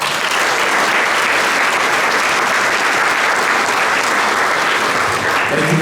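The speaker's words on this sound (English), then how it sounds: "Let's give a nice round of applause to our neighbor from New Haven, our state treasurer, Eric Russell" Loud, steady round of applause from a crowd at a 2023 Derby inauguration ceremony welcoming the state treasurer, dense clapping sustained without pause for about six seconds.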